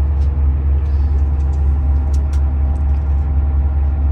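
Inside a luxury long-distance bus travelling from Tehran to Iranshahr, Iran: a loud, steady low engine and road rumble with faint rattles and clicks, continuous throughout, no speech.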